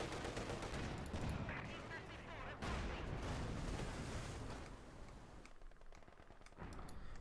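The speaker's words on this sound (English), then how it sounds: "Maximum got wiped out there by Bulat's Panzer 4." Dense, loud gunfire and heavy tank cannon booms from a Company of Heroes 2 battle with a Panzer 4, bursts overlapping in a continuous barrage that thins briefly near the end, with a voice talking underneath.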